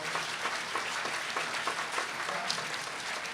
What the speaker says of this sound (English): We have a round of applause for our panel.